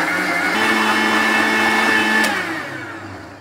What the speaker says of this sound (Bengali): ব্লেন্ড করার সময় একটু ঝাঁকি দিতে হবে